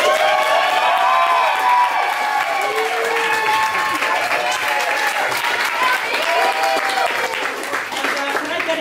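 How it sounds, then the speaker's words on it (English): A crowd applauds warmly, dense clapping sustained for several seconds and slowly thinning toward the end. "And let's all quick give a round of applause to Maddie, our new..."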